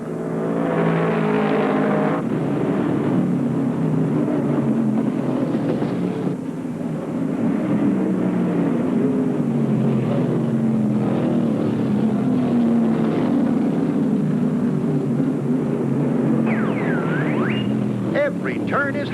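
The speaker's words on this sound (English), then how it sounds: "77 Harry Gant loses it coming out of the third turn, but he's down on the grass, gets out on the track" Old stock cars race around Martinsville Speedway in 1975 at the Dogwood 500, a steady engine drone sustained throughout with a commentator talking over it.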